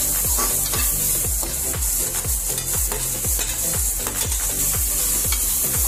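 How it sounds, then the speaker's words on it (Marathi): Cauliflower frying in a pan with a steady sizzle, stirred at a regular beat of repeated scraping strokes, close and fairly loud with no talking. "फ्लावर हलवून घ्यायचं मध्ये मध्ये."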